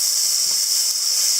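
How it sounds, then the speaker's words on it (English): Onions sauté in a pot for pumpkin and sweet potato soup, giving a loud, steady, high hiss of sizzling that holds evenly without talk. "the onions are softening and sautéing down"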